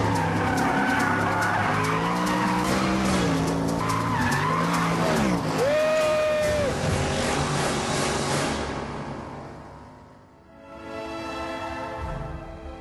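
Ascari A10 sports car driven hard, a loud engine roar with long tire squeals and skidding that rise and bend in pitch, then fade briefly before the engine returns.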